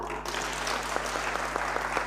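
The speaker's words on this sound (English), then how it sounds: "Let's give her a good clap" An audience claps for a young professional at an etiquette and personal branding session, a moderate, even spread of applause over a steady low electrical hum, with a few sharper claps standing out.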